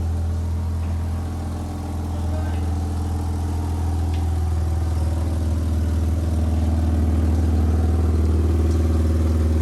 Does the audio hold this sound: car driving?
yes